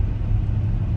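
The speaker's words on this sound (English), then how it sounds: "driving the 2021 Cadillac Escalade" A 2021 Cadillac Escalade on the move, its engine and road noise forming a steady, close low rumble with no voices.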